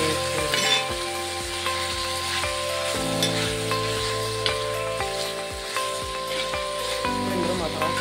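Chicken curry ingredients fry in a pan with a continuous bright sizzle and hiss, punctuated by occasional stirring knocks, while steady tonal background sound runs underneath.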